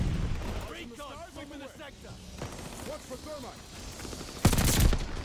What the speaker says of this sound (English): I've accidentally made a beam gun though.